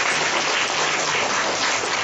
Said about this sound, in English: A great applause and special thanks from PITM to Dr.